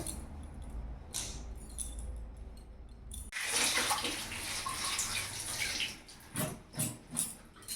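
Cut pumpkin pieces are washed under running water, a quiet trickle that bursts into a louder gushing flow partway through, followed by rhythmic sloshing surges as the pieces are rinsed and handled.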